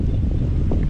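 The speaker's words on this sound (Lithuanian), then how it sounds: "Rimta smėlio audra" Strong wind roars in a sandstorm in Israel, a dense, steady rush of noise buffeting the microphone with no pauses.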